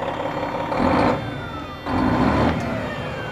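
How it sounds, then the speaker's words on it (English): A loud, rumbling cabover truck engine revs up twice, each surge of exhaust roar swelling and then dropping back to a steady idle. "Forgotten what exhaust sounds like. That thing sounds sick."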